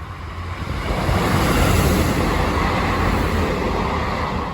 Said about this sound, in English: Yeah, that's definitely a train,